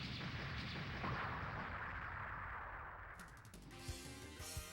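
An explosion in the video game Mega Man X3 on PS1, a faint rumbling burst that fades, followed by brief game sound effects and music.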